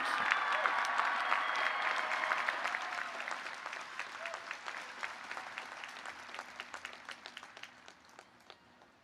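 Audience applause for an honoree at a university honors convocation, a full burst of clapping with some cheers at first that thins out into scattered, individual claps as it fades.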